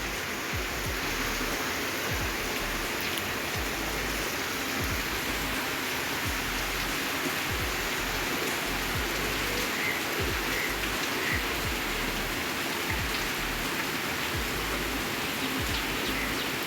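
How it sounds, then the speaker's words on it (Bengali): Torrential monsoon rain pours steadily, a dense loud hiss of drops drumming on surfaces with scattered heavier splats, continuous and unbroken from start to finish. "মুষলধারে বৃষ্টি, এত বৃষ্টি।"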